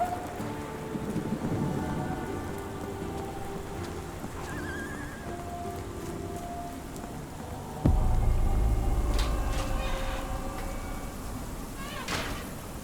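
Rain falls steadily in a London street scene of the video game Sherlock Holmes: The Awakened, a constant hiss under game music, with a sudden low rumble and crackling bursts later on.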